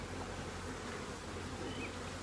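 Honeybees at a hive hum in a dense, steady buzz that fills the short stretch at a low, even level, with no voices over it.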